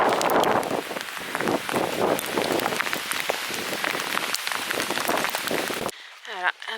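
Heavy rain pours steadily onto a surface for several seconds, dense and close, then stops abruptly; a few faint voices follow at the end.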